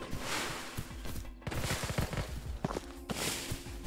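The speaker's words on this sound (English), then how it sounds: "This gunshot sounded super close." Gunfire in the Ghosts of Tabor shooter game, a run of sharp close cracks and thumps in quick uneven bursts amid footsteps and movement noise, no talk.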